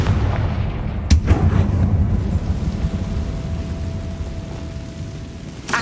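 Confringo, a fiery blast spell in the video game Hogwarts Legacy, lands with one sharp, loud bang, followed by a long rolling rumble that slowly fades, with no talk.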